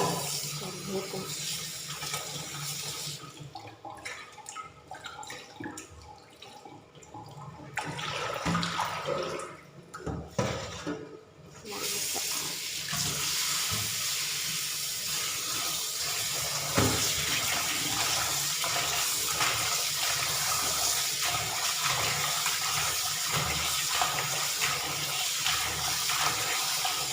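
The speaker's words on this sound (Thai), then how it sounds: "ล้างผักขะแยงขึ้นก่อนนะ" Paddy herb is rinsed under a running kitchen tap, water splashing steadily and close for the whole stretch, briefly quieter at times as the stream shifts, with handling noises mixed in.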